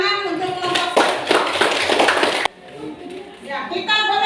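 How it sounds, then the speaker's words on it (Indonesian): A group in a church class session on Mary as a model of faith gets a short burst of clapping lasting about two seconds, with a voice talking before it and again after it. "Tepuk tangan untuk kelompok"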